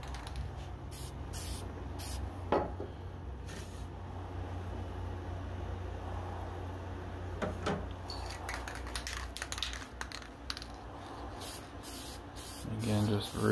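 Krylon fixative sprayed over a finished scratchboard in short, quick bursts, each a faint airy hiss from close by, with a few light clicks and handling noises between passes and a low steady background hum.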